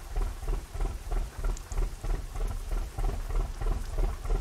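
Steady rain falls while driving a truck in American Truck Simulator, with a low rumbling, pulsing roar, loud and continuous with no voices.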